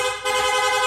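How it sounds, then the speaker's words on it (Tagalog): A motorcycle horn on a Suzuki Sniper 155 fitted with a PIAA horn blares in a rapid, continuous string of honks, loud and close, with no pauses between toots. "Long press lang po natin yung horn switch kung saan na po siya magsusunod-sunod."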